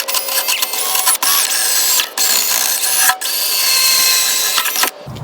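A power tool cleans rust off a metal part from a first-generation Scion xB, a high whirring grind in steady bursts separated by brief pauses.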